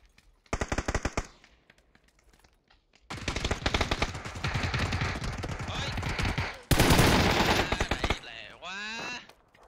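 Rapid automatic gunfire in a tactical shooter match, sharp bursts of shots crackling in quick strings separated by short pauses, loud and close, with heavier sustained volleys and a brief voice at the end.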